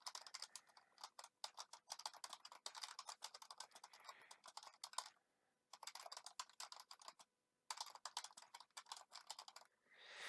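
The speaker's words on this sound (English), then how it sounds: "I'm going to just type the message that I want people to see" Steady, rapid keystrokes on a computer keyboard as a message is typed into a booking system's zone-restriction setting, close and clear, with a few brief pauses and no talking.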